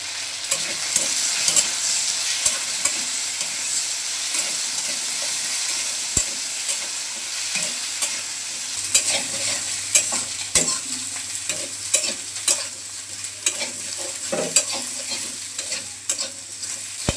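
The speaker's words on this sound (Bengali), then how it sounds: "কচুগুলো ভাজা হয়ে গেছে এখন নামিয়ে নিচ্ছি" Boiled taro pieces coated with turmeric and salt fry in hot oil in a pan, a steady bright sizzle punctuated by frequent scraping clicks of stirring, close and continuous with no talking.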